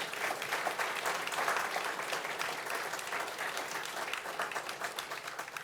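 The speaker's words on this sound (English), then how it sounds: "How about one more round of applause for all of our inductees?" Audience applause at a university athletics hall of fame ceremony for the inductees, a dense, sustained round of many hands clapping from a sizable crowd, heard at a distance and fairly soft.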